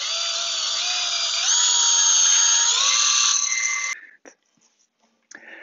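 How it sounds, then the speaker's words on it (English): A handheld pistol drill whines at high speed for about four seconds, twisting wire for a fantasy wire sculpture, its pitch rising as it speeds up before it cuts off and leaves faint handling clicks. "So what I'm now going to do is put them in a pistol drill,"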